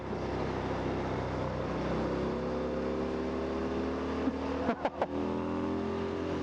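Harley-Davidson Fat Bob 114 motorcycle engine held at high revs near redline in second gear, a steady droning whine heard from the rider's position with wind, ending in a few sharp bumps.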